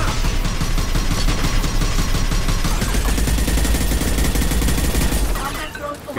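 Sustained rapid gunfire in a Mass Effect 2 firefight, dense bursts and volleys filling the scene continuously before easing off near the end, with a voice speaking over the shooting.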